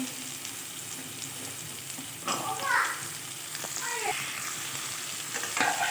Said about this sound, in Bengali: আলুটা একটু ভাজা হয়ে এসছে, এবার সজনে ডাঁটাগুলো দিয়ে দিলাম।